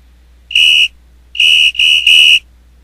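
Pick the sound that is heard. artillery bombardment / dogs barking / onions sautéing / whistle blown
whistle blown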